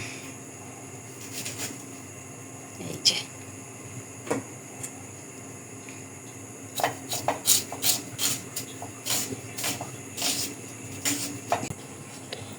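Onions are cut into thin rounds on a board, starting with a few sparse knife strokes and then a quicker run of rhythmic crisp chops and scrapes, close and moderately loud with no talk.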